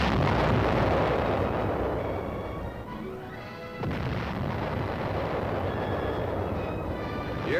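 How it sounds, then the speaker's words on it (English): Armored artillery batteries firing outgoing rounds during the Korean War: loud, continuous rumbling booms and blasts that briefly ease before another heavy report, in a dense, noisy old battlefield soundtrack with no speech. "The chain of supply ends as armored artillery batteries fire outgoing rounds at enemy held"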